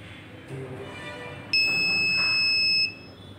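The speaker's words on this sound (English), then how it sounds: "also you'll get a buzzer alert" A shrill, steady electronic buzzer alert from an IoT medication and health monitoring device sounds loudly for over a second, rising above faint background hiss and a few softer tones.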